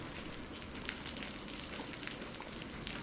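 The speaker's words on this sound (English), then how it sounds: "The rain will continue to fall, the thunder will gently roll in the distance" Steady rain falling, a dense, even patter with scattered individual drop taps, soft and continuous with no voices.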